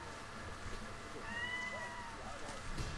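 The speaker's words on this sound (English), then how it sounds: "I am sorry if you hear my cat in the background." A pet cat gives a soft, drawn-out meow in the background behind a Final Fantasy XIII-2 demo playthrough, faint and distant, with quiet room noise and a little speech around it.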